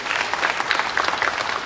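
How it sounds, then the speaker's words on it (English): Applause for Youth Bureau staff at a city summer jobs event: a short burst of clapping from a modest group, uneven and lively with individual claps standing out. "Can we get another round of applause for them?"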